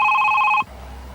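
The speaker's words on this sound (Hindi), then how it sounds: "छोटे शाह जी का फोन है" A telephone bell rings in a steady electronic trill, loud and close, then cuts off abruptly partway through, leaving quiet room tone.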